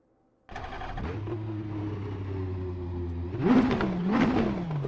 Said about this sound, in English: Get that ignition started up.